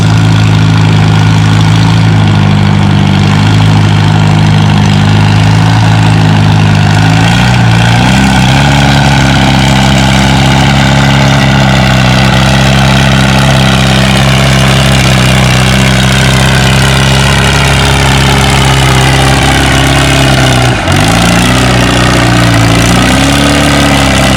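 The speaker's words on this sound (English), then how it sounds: "He let off the throttle because the tractor picked up speed" A Farmall H tractor at a tractor pull, hooked to the sled with stainless exhaust pipes, roars loud and steady, its engine note easing and shifting as the throttle comes off mid-run.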